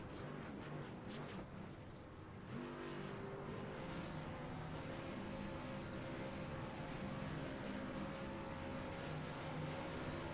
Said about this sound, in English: Even Byron's doing Burnouts down there.